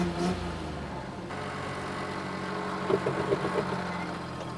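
An old engine left abandoned for two years and puffing a little smoke idles with a low, steady rumble that stays fairly quiet and even throughout.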